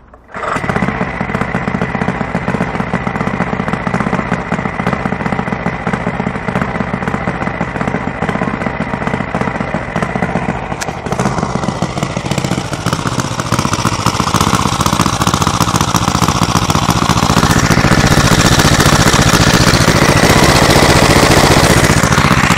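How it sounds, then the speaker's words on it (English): A hot twin-cylinder Suffolk engine starts and settles into a loud, continuous, rapid chugging run close by, the tone shifting and growing fuller partway through. "There we go, running on both cylinders."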